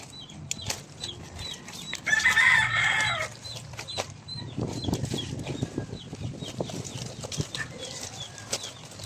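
Chickens cluck nearby with a burst of wing flapping and squawking early on, then softer scattered clucks and rustling continue around a hen's nest.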